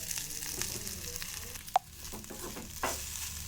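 Mashed idli is stirred into upma in a pan with green chillies, curry leaves, salt and turmeric; a soft sizzle runs beneath quiet scraping, with one sharp spoon clink midway and another scrape near the end.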